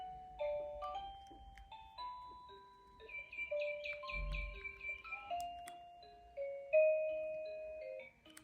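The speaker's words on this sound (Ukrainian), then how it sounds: "Є колискові із звуками природи" A gentle music-box lullaby from a baby crib mobile plays bright chiming notes steadily, with soft low rumbles and faint nature sounds underneath.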